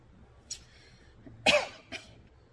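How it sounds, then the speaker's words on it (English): A few separate coughs from one nearby person, a short one, then a harsher louder cough, then a lighter one, with quiet gaps between. "Don't know why I started coughing again today."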